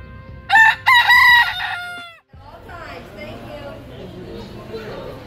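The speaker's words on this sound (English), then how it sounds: "They got the chickens going crazy." A rooster crows loudly nearby in a long, bursting call among chickens, followed by softer clucking and a faint murmur of voices in the background.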